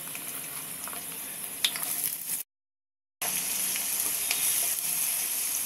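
Finely chopped onion fries in hot mustard oil, giving a loud, steady, close sizzle that fills the clip, broken by a brief total dropout near the middle before the same crackling hiss resumes.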